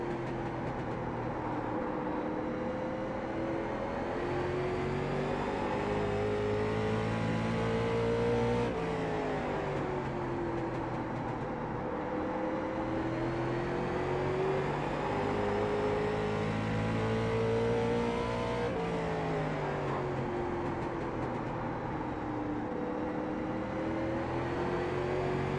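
Late model race car engine on the flat Stafford oval in iRacing, a continuous revving drone whose pitch rises and falls with each lap section, steady and moderately loud with no talk.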